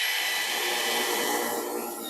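A loud, steady high-pitched whir of a Milwaukee cordless impact driver boring into concrete, close and continuous, easing slightly toward the end.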